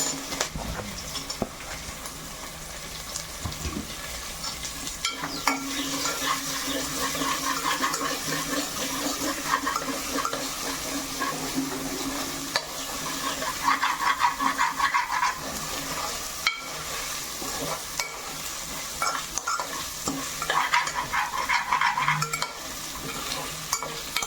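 Beans, carrot and potato stir-fried in a pan, with a steady sizzle and repeated scraping strokes of a spatula running throughout, fairly close and continuous, no talking.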